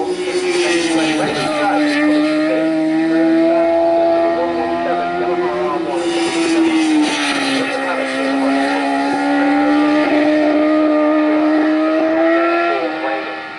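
Racing motorcycles in the Thunderbike Ultra & Extreme class lap Snetterton circuit, their engines howling loud and continuous, the tone rising and falling as the bikes pass close by.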